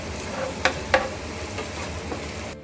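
Onions frying in a pan over a low to medium flame, a steady soft sizzle with two sharp clinks of a utensil against the pan partway through.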